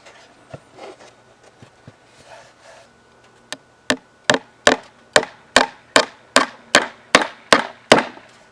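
Hammer blows drive nails into wood while a wooden birdhouse is assembled, with a middle divider being fastened. About a dozen sharp, evenly spaced strikes ring out close and loud after some quieter handling and tapping.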